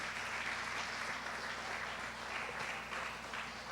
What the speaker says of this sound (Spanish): Démosle un fuerte y grande aplauso al Señor Jesús.